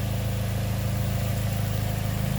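A Ford Fiesta ST engine idles smoothly after a carbon clean, a steady low hum with a faint even pulse, close by and constant, with no rattle evident.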